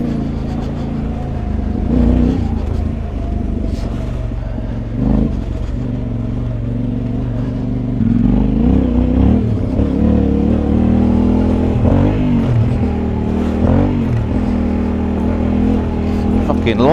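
A Yamaha Tenere 700 adventure motorcycle rides off-road at Thetford on new tyres, its engine droning steadily and close throughout, with the throttle surging and revving at moments over constant rumbling and rattle.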